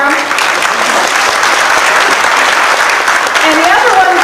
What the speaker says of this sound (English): That's all right, you can clap for him.